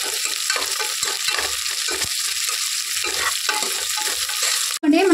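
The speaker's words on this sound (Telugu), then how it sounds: "మునక్కాయలు కూడా కొంచెం నూనెలో మగ్గ పెట్టుకోవాలి" Moringa drumsticks sauté in hot oil in a pan, a continuous loud sizzle with stirring scrapes, ending in a brief interruption and a different tonal sound.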